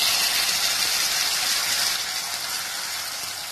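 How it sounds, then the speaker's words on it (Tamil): Mustard seeds spluttering and crackling in hot oil for a Tamil masala sundal snack, a dense steady sizzle with fine popping close up that fades slightly toward the end, no voices. "எண்ணெய் காஞ்சோன கொஞ்சம் கடுகு போட்டுக்கலாம். கடுகு எல்லாம் நல்லா பொரிஞ்சோன"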